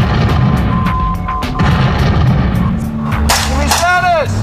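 Friendly artillery fire coming in during a military exercise, heavy booming rumble under shouting voices, with a sharp burst and whistling tones near the end.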